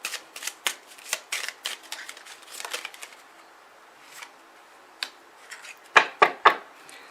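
Oracle cards being shuffled by hand, a run of soft rapid riffles and flicks close up, followed by a few louder taps as the deck is squared.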